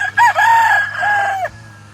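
Harold Brown Blue Face Hatch gamefowl rooster: a single loud, close crow lasting about one and a half seconds, with a rising start and a falling end over a low background hum.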